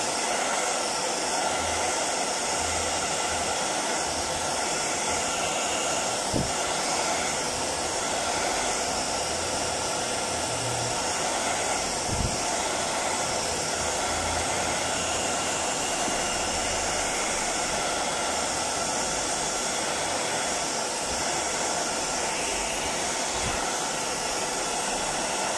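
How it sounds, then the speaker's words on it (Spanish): A hair dryer blows continuously to dry paint on a faux marble finish, a steady loud whooshing hum that holds unchanged for the whole stretch, with no speech over it. "Voy a ver si me puedo ayudar con el secador."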